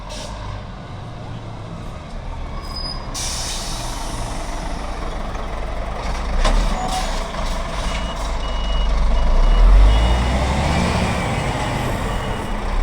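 A Scania truck with a special European low-floor trailer with steering rear wheels maneuvers at close range, its diesel engine rumbling loudly while reversing beeps sound and the engine swells louder partway through.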